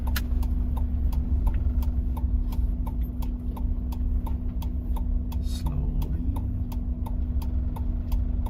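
A car's turn-signal blinker ticks in a steady, even rhythm from close inside the cabin during a driving-test course in Japan, over a constant low engine hum.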